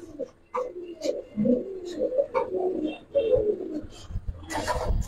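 Pigeons at a home loft, including an old-breed male, coo in low, throaty rolling phrases close by, repeated over and over amid light rustling and flutters.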